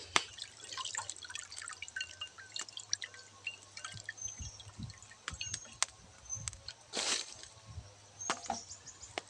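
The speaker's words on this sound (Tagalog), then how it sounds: "Hugasan natin ng 2 beses." Kangkong (water spinach) is washed in water, giving faint splashing, dripping and light knocks that come and go at close range.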